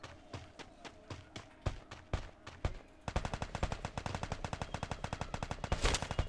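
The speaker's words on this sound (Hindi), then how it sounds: "भाई प्रभास ने हेडशॉट मारा" Gunfire in a battle royale video game: single sharp shots at first, then a rapid, sustained stream of automatic fire, loud and close, with no talking over it.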